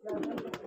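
A pigeon gives a brief soft coo at a village loft where flying pigeons perch in a tree, a single short call close by.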